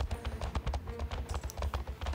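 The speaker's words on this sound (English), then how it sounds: "This horse jumps so weird." Hooves of a horse in jumping training thud and clatter in quick irregular beats, close and fairly loud over a rumbling outdoor background.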